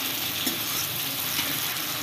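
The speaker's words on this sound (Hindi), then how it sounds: "तो यहाँ पर प्याज को भून लेते हैं" Onions frying in a pan for dhaba-style sambar, a steady close sizzle with soft crackle throughout, no voices.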